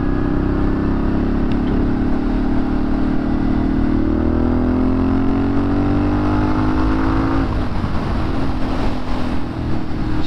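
A Moto Guzzi Griso motorcycle cruises on the highway. The engine drones loud and continuous with rising pitch as it accelerates, then drops with a shift amid heavy wind noise.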